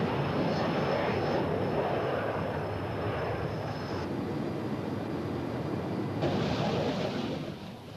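A Phantom jet flies during aerial refuelling from a VC-10 tanker: a loud, continuous broadband jet roar with steady high whine tones that shift partway through, heard as if from inside the cockpit.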